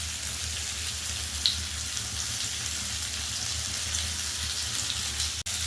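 Two medium sliced onions sizzle in a pan for a homestyle Bengali koi fish curry, giving a steady close hiss with one sharp click near the end and no talking.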